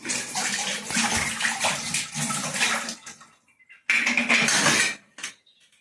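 Kitchen dishes being washed under running tap water, with a strong gush of water and clinking pots and cutlery nearby. The flow stops briefly, then resumes in a louder burst before cutting off; no one speaks.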